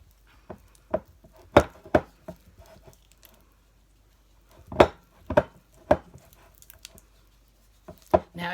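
Chopped mushrooms being mixed with lemon peel in a bowl, irregular soft thuds and squishy taps in short clusters with quiet gaps, close and moderately loud.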